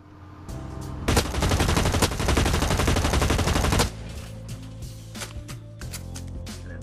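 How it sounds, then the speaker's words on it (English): A full-auto assault rifle in the shooter game Blacklight Retribution empties a whole magazine in one loud, continuous burst of rapid gunfire lasting a few seconds, then stops, leaving quieter game ambience with scattered small clicks. "this is what happens when you go full auto"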